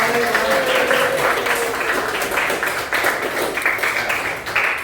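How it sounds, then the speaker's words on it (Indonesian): Students in an Islamic religious education class break into loud, sustained applause, a dense continuous patter of many hands with some voices mixed in. "Tepuk tangan buat kita."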